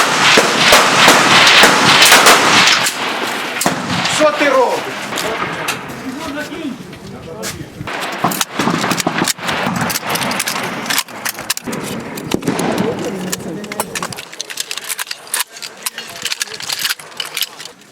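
Loud rifle shots crack repeatedly in irregular bursts at close range on a shooting range during Ukrainian National Guard volunteer training, with echoing reports and occasional voices between them.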